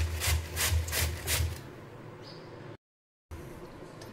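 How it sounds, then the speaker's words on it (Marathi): Cabbage grated by hand for cauliflower-carrot parathas: about four close, rhythmic rasping strokes, then softer rubbing, and a brief dropout into silence near the end. "कोबी किसून घेते।"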